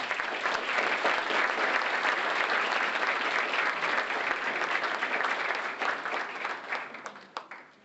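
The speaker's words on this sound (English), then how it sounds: "one last round of applause for these outstanding students" An audience at a university academic recognition ceremony gives honored students a long, even round of applause, dense clapping from many hands that holds steady and then tapers to a few scattered claps.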